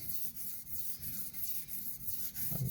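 A TRM Atom knife blade is sharpened freehand on a stone, giving rhythmic, evenly spaced gritty rubbing strokes, close and fairly quiet, with no voices.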